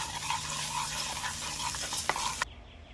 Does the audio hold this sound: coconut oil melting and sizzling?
yes